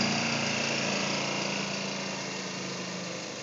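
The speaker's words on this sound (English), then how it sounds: "This is the TB200 roller brush." A TB200 roller brush runs over golf greens, working in top dressing. Its engine gives a steady, close, fairly loud drone that fades slightly over a few seconds, with no voices.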